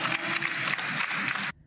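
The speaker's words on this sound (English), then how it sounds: "Wow, they were clapping after that" Applause from an audience at a Canadian political gathering, a dense wash of many hands clapping steadily and fairly loud for about a second and a half, then cutting off abruptly to near silence.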